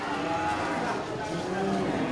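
Cattle low and moo at a busy cattle market ahead of the Eid holiday, several animals close by amid a steady crowd hum, with faint voices in the background.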